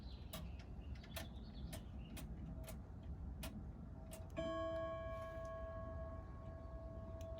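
Regular ticking from a weight-driven clock mechanism, then a clear ringing chime tone that starts mid-way and slowly fades, heard close up in a quiet room.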